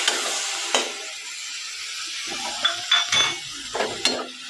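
A spoon scrapes and clinks against a pan while boiled legumes and vegetables fry, a faint sizzle running underneath several sharp stirring strokes.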